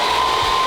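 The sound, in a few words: hair dryer blowing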